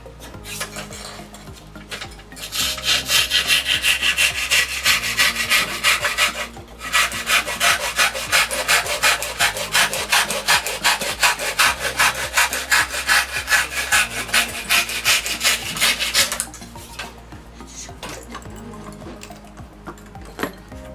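A hand saw fitted with a back attached to its blade cuts wood in fast, steady rhythmic strokes, loud and close for about fourteen seconds, then stops to quieter handling.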